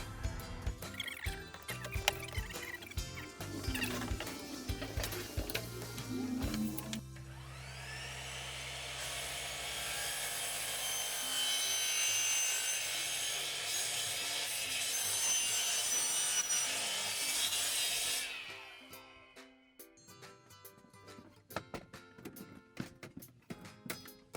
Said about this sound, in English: I'm going to use the miter saw to cut this piece of wood.